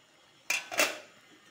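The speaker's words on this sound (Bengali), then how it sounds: "ঢাকনাটা খুলে দেখবো" A pot lid lifted off a simmering Bengali paneer curry cooked with milk and poppy-melon seed paste, giving two quick metallic clinks close by, followed by quiet.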